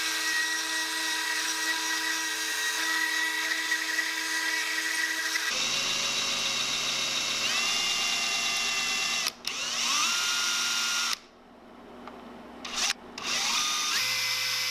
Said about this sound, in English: We're gonna go back with the Dremel and widen those out.